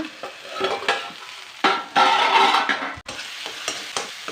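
Brinjal pieces sizzle in hot oil in a pan, with bursts of loud frying and occasional stirring scrapes, close and steady with no voices.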